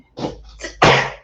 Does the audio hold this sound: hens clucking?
no